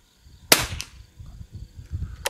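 A single sharp rifle shot from a Savage Anschutz or CZ455 sporter target rifle cracks nearby on a very windy range, then a quieter crack follows near the end amid low rumbling wind.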